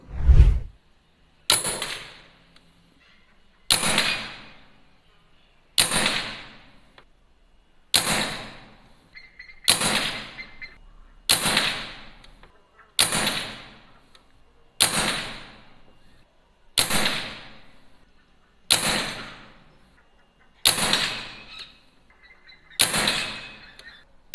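A 5.5mm PCP air rifle fires about eleven sharp, loud shots at the 40-metre targets, each a crisp crack with a short ringing tail, spaced roughly two seconds apart in a steady rhythm.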